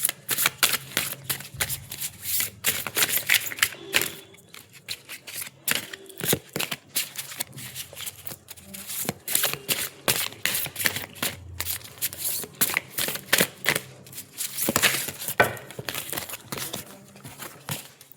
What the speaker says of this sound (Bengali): একসঙ্গে সব কার্ড লাফিয়ে লাফিয়ে পড়ছে